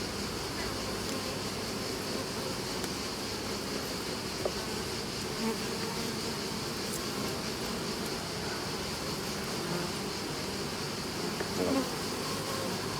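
Honeybees buzz around an open beehive during an inspection, a dense, steady hum close to the microphone with faint small handling sounds and no speech.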